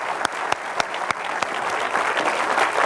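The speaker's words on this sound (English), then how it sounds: "let's have a big hand for Garrett." An audience at a presentation breaks into applause, a few crisp separate claps at first quickly swelling into steady, dense clapping from a roomful of people.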